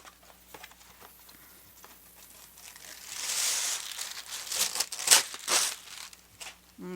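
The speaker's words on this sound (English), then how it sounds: "Let me get a new fresh piece of paper." A fresh sheet of paper being handled while sketching curly, swirly shapes, with faint rustles building into louder crinkling and crisp rattling bursts up close, no talking.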